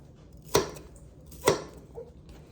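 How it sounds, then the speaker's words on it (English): Onions are chopped with a knife on a board in a home kitchen, with two sharp, close thuds about a second apart and a softer third tap after them. "So I'm just chopping it like this."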